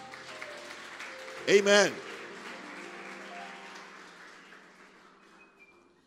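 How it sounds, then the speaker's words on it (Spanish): A congregation in a Spanish-language church service gives a short burst of applause for Jesus, a loud clapping swell lasting under a second that rises over a preacher's speech and fades as talking continues. "Denle un aplauso fuerte a Jesús."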